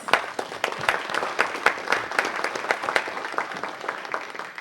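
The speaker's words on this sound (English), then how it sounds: "Let's everyone give them a round of applause." A crowd at a city council meeting applauds steadily for several seconds, many hands clapping in a dense, even patter without talk.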